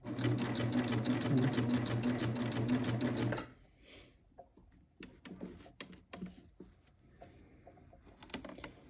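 Cover stitch sewing machine hemming the bottom edge of white fabric with white thread, running in a loud, steady mechanical whir for about three seconds before stopping, followed by quieter handling clicks and rustles.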